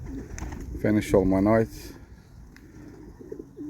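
Young racing pigeons coo in a loft with a soft, throaty rolling call, one burst standing out near the middle and fainter coos later, while someone talks briefly over them.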